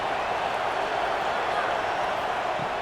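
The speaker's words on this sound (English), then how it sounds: "And here comes the noise. This crowd is trying to inspire this defense to make a big red zone stop." Stadium crowd roaring steadily in a college football video game playoff matchup with James Madison, a dense continuous wash of cheering and noise as the home fans try to spur a red zone defensive stop, loud and unbroken.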